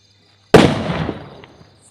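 A single firecracker burst by villagers celebrating an election win, a sudden loud bang that trails off into a crackling, fading rumble over about a second, with faint insect chirps in the quiet before it.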